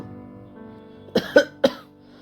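Someone narrating an audio story voices a character sick with influenza, giving three sharp, close coughs in quick succession against a quiet background.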